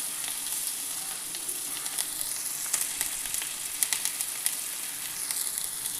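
Cashews and raisins sautéing in ghee in a pan, a soft steady sizzle with scattered small crackles and pops, fairly quiet and close, no voices.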